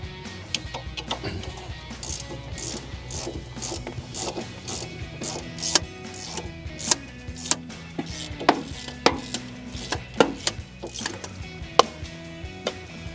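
A flex ratchet turns a nut on a strut mount during a 2005-2014 Mustang strut install, giving a steady run of sharp, close clicks with irregular louder ticks over about thirteen seconds.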